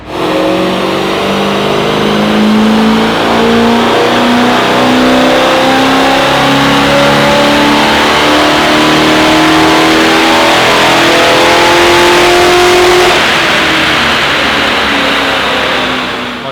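Holden HQ with a 253 V8 running Holley Sniper injection, revved hard and held at high engine speed for a long, loud, sustained roar with rising tones, no talk.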